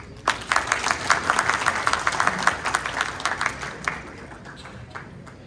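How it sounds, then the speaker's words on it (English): Audience applause at an alumni association's annual dinner, many hands clapping in a dense patter that swells and then thins out toward the end, moderately loud. "I want to ask you to give yourself a big hand of applause."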